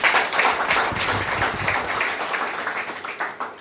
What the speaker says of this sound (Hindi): एक बार अपने अपनों के लिए जोरदार ताली।